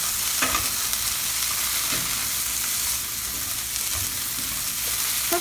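Bitter gourd and onion stir-fry in a pan, a continuous close sizzle with a few spatula scrapes spaced about every second or two.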